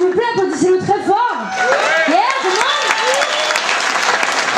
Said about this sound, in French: avant d'accueillir Big Death, s'il vous plaît, applaudissez-le très fort